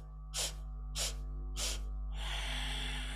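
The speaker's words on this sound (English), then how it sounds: "Now take a deep inhale." A deep inhale during a kundalini yoga kriya for stress: three sharp, breathy sniffing intakes in quick rhythm, then a longer, steadier drawn breath, close and fairly quiet over a low hum.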